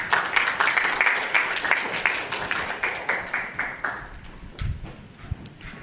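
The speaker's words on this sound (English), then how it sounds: "Ladies and gentlemen, loud applause to Wai Fong." Applause from an awards-ceremony audience for a sustainable architecture presentation, steady dense clapping that fades out after about four seconds, leaving a few scattered claps and faint room noise.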